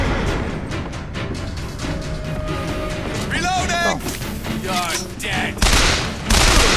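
Rapid gunfire and explosions crackle in the factory level of Bioshock Infinite, a loud dense barrage throughout with a voice talking over it.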